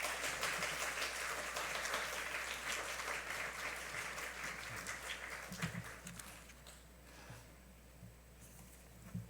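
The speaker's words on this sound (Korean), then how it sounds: "박수로 환영하겠습니다." An audience at a university chapel service applauds to welcome a visiting professor and pastor, a dense wash of clapping that fills the room and slowly thins out toward the end.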